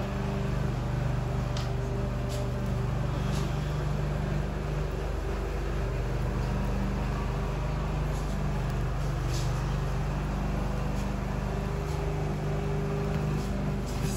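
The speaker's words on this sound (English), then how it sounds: "Sorry about the lawnmower, it's in the background." A steady lawnmower engine drone hums continuously in the background, low and constant with no talking, running nearby throughout.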